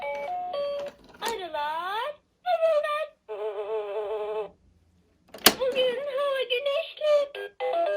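An electronic bee buzz from a children's Bondigo activity table toy plays in short bursts of bright, warbling synthetic tones, loud and close, with pauses between the bursts.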